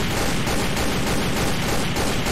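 Gunfire crackles nonstop in the Sneak Thief video game, a dense, loud barrage of shots with no pauses and no talking over it.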